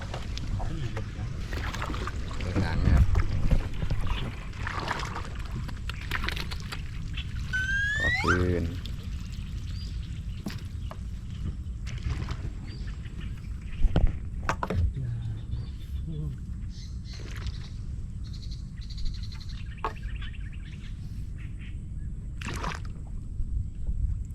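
A small boat moving through floodwater over a flooded road, with soft sloshing and water dripping and pouring around the hull over a low steady rumble; a voice chirps briefly partway through.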